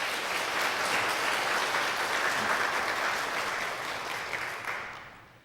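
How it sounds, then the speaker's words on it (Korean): Church congregation applauds a returning young man home on holiday from New York during a Sunday service, a steady wash of clapping that tapers off at the end. "여러분들 환영의 박수 부탁드립니다"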